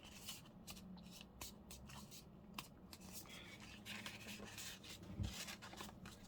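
Crinkly rustling and crisp creasing of a paper cereal bag being folded into a journal, a series of quiet close-up handling sounds and scrapes.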